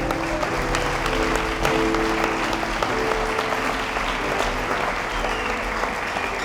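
A church congregation at a district congress claps loudly and continuously, dense sustained applause filling the space with faint voices and cheers mixed underneath.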